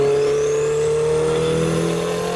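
A turbocharged Ford Model A rat rod with a swapped Honda S2000 four-cylinder engine pulls at full throttle, a loud, steady engine roar with a turbo whine climbing in pitch throughout.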